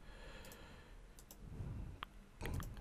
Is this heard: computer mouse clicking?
yes